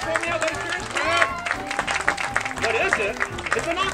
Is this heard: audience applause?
yes